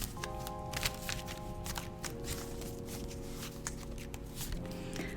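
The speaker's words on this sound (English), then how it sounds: "we'll pick 2 cards from this deck" Cards being drawn and shuffled from a Rider tarot deck, with soft repeated papery slides and taps close up over a low steady hum.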